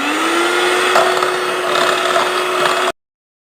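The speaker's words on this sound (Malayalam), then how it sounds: "അപ്പോൾ അല്പം അല്പമായിട്ട് നമുക്കിട്ട് ഒന്ന് ബീറ്റ് ചെയ്തെടുക്കാം." An electric mixer beats sugar into a sweet banana batter, a steady high motor whine with gritty churning, close and loud, cutting off abruptly after about three seconds.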